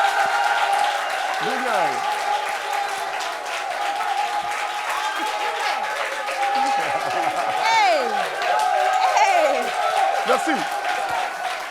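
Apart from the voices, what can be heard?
audience applause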